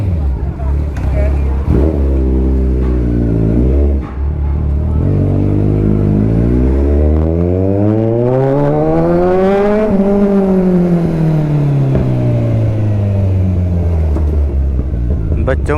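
A Kawasaki Z1000 motorcycle ridden on a road trip from Chandigarh to Jammu, its engine climbing steadily in pitch through the gears before easing back down, loud and close under constant wind rush.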